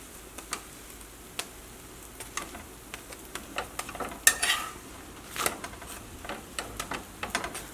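Paratha frying in butter on a hot pan, giving a soft, crackling sizzle broken by scattered sharp ticks and clicks of a utensil against the pan, close and fairly quiet with no talk.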